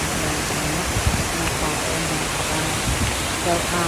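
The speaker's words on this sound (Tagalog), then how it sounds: "Artificial lang po yung waterfalls." Steady broadband rush of an artificial waterfall at a hanging garden in Kalba, continuous and fairly loud, with faint voices underneath.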